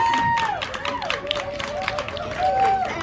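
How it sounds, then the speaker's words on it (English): Outdoor crowd at a women's celebration in a park clapping and cheering, with whoops and shouted voices rising over scattered applause throughout. "I just want to give myself a round of applause"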